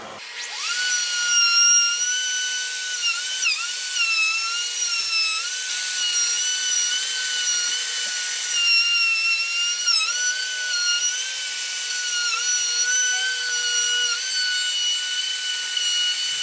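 A Festool OF2200 router routes a groove in a custom exterior wood door, making a loud, high, continuous cutting whine. The pitch wavers slightly as the bit is fed through the wood, with no speech.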